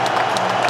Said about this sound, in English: Rapturous applause.